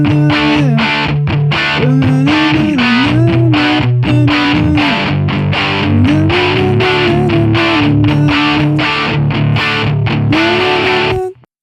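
Doubled distorted electric guitars spread wide in a rock mix, with a hummed vocal melody riding steadily on top, loud and continuous throughout before cutting off abruptly at the end.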